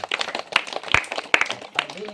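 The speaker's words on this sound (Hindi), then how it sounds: "इसके बीच में ताली बजा दो एक बार" During a village street magic show, one sharp, close hand clap rings out amid lively chatter and voices, with a few lighter taps around it.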